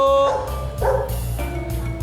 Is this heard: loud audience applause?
no